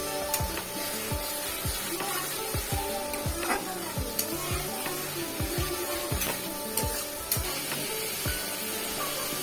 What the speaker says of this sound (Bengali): ভালো করে কষিয়ে নিতে হবে 10 থেকে 15 মিনিট ধরে। একটু একটু জল দিয়ে কষিয়ে নিতে হবে।